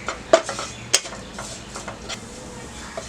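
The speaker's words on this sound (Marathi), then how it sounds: "परतून घेऊया सगळं।" Onions cooked with turmeric, coriander powder and red chilli masala are stirred in a pan for a potato dish, giving light scraping and a couple of sharp utensil clinks against the pan over a faint sizzle.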